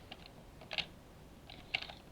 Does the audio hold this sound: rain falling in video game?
no